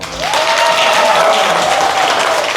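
An audience claps loudly and continuously for one side at an event, dense sustained applause from a crowd with a voice calling out over it.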